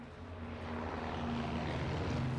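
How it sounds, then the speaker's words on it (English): Enemy bomber aircraft from Call of Duty WWII droning overhead, a steady, loud propeller-engine hum that swells slightly and holds throughout, with no talk. "Enemy bomber. Incendiary bombs incoming."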